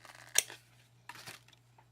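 Scissors snipping paper while cutting out a paper dimensional for a slider card: two or three quiet, crisp cuts in a near-silent room, close and faint, with no talking.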